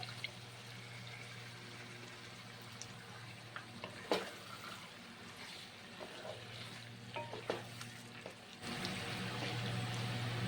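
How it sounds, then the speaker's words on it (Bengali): Chicken with a paste of cashew, melon seed and poppy seed sizzles steadily in a pan, with intermittent scraping stir clicks over a constant frying hiss that grows louder near the end. "চিকেনটাও ভালো করে কষিয়ে নিতে হবে"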